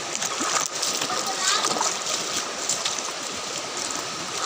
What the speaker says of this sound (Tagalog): Malakas ang agos, napakalamig.